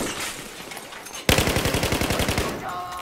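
Rapid machine-gun bursts in a Battlefield 4 firefight on the Siege of Shanghai map, a sharp onset followed by a fast regular string of loud shots, close and continuous.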